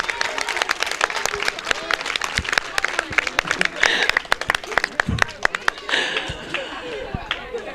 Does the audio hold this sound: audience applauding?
yes